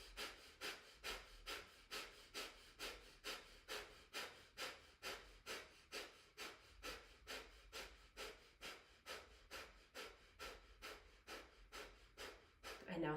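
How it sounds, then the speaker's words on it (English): Rapid diaphragm-pumped breathing during a detox breath exercise, about two sharp exhales per second in an even rhythm, close and clear, continuing for around thirteen seconds. "Fast breathing first, pumping from your diaphragm."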